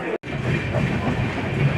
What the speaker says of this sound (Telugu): మన ట్రైన్ అయితేనండి కటక్ జంక్షన్ నుండి అయితే డిపార్ట్ అయిపోయింది